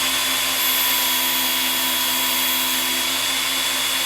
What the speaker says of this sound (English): this is a honing belt, so I'm going to run it about 4 times